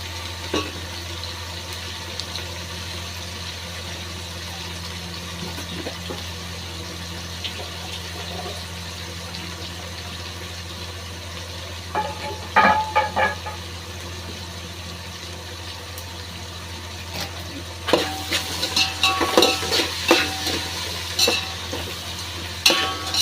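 Tomatoes, mint and coriander fry in a pan for fish biryani, a low steady sizzle with bursts of louder spluttering and stirring in the second half, no voices.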